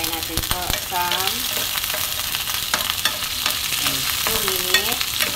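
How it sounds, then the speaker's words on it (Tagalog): Tomato and chili sizzle steadily in a frying pan while a utensil stirs and scrapes through them in repeated strokes, the frying loud and close. "I-mix natin ang tomato with chili."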